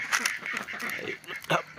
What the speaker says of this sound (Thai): ฟังนี้เป็ดนครปฐมครับเอาตัวขึ้นกัน